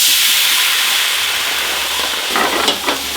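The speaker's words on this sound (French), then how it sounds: "On déglace comme ça." A hot pan with vegetables is deglazed for a pork and cabbage dish, giving a loud, continuous hiss of steam. A few clinks and scrapes come near the end.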